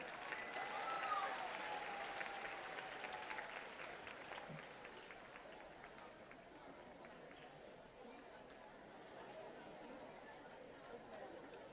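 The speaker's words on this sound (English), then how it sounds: "Big round of applause, guys." An audience applauds as students from Sheikh Gopalji Hemraj High School and Tardeo BMC Urdu Medium School come on stage, a steady wash of clapping with crowd chatter that swells early and then settles at a sustained level.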